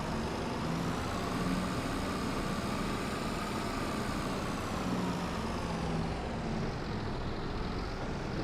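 A tractor in Farming Simulator 25 turns over and settles into a loud, steady diesel rumble, running close and unbroken throughout with slight pitch shifts and no talk.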